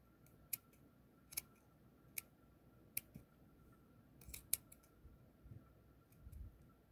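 Scissors snip through fabric for a slow-stitching craft project, about six crisp, faint cuts spaced irregularly in a quiet room, with two snips close together near the end.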